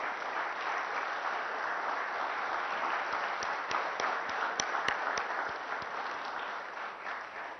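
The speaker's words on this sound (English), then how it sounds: "Ladies and gentlemen, please give these champions a big round of applause." An audience applauds champions at a business awards ceremony, a broad continuous patter of clapping with a few sharper individual claps standing out, tapering slightly at the end.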